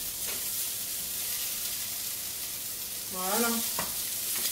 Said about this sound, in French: On mélange bien pour pas que ça noircisse.